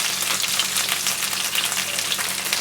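Marinated chicken pan-frying under a lid on medium-low heat, giving a steady, dense sizzle with crackling pops throughout, close and continuous with no voices.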